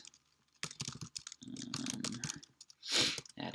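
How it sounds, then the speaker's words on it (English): Rapid clicking of keys on a computer keyboard during coding, in irregular bursts of close, crisp taps with short pauses between them. "So much typing."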